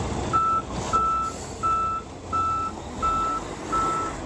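A concrete truck backs up toward a barn for a floor pour, its backup alarm sounding six evenly spaced, loud beeps over a low engine rumble, with no voices.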